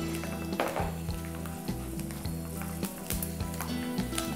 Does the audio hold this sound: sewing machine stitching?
no